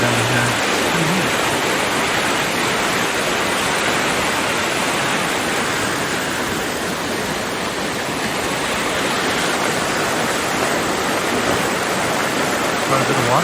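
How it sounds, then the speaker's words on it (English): A small river rushes beneath a little bridge at Whiteside campground in Colorado, making a loud, unbroken broadband roar of flowing water with no pause. "it's got a little bridge and a nice little river running down here"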